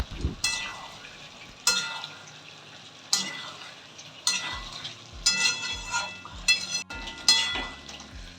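Red chilies frying in a pan for a vegetable chicken curry, a loud crackling sizzle with repeated scraping stirs of a utensil against the pan every second or so.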